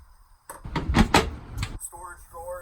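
Storage drawers in the cabin of a 2020 Grady-White Freedom 275 twin-engine boat sliding and knocking shut, a few clunky bumps close by, with voices talking over and after them.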